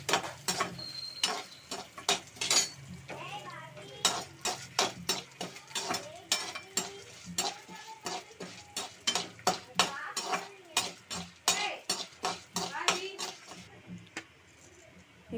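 Chili-powder spice paste fries in a pan while a utensil scrapes and taps against the metal in quick, irregular clacks, a faint sizzle underneath.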